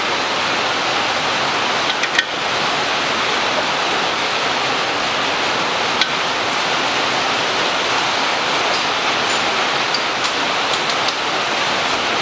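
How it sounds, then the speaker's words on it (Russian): Heavy rain pours down outdoors during a Mitsubishi ASX wheel bearing replacement, a loud, unbroken roar of dense hiss, with an occasional faint tap or click. "Вот дождь разошелся."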